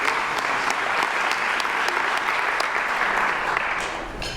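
Steady, dense audience applause from a conference crowd fills the whole stretch, loud and even before tapering slightly at the end.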